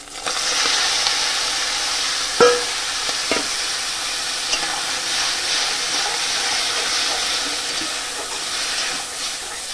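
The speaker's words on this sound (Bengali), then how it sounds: "এই যে এভাবে ভালো করে ভুজিয়া টাইপের ভাজা ভাজা করে নেব।" Egg and tomato bhujia frying in a pan, a continuous hiss of sizzling oil punctuated by a few sharp scrapes and clicks of a spatula stirring, close and fairly loud, no speech.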